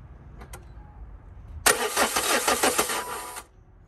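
Renault Megane 2 1.5 dCi diesel with a faulty injector seal cranks briefly, then catches into a loud, rough, knocking rattle that runs for a couple of seconds before cutting out; a short click precedes it.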